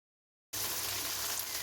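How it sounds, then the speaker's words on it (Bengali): Beans frying in white oil and ghee in a kadai: after a short silence, a steady, close sizzling hiss starts and runs on, ending with a brief louder clatter. "প্রথমে আমি বিমসটা ভেজে নেব"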